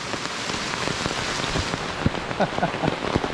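Steady rain at a waterfall hisses throughout, with scattered drops pattering close by on a surface.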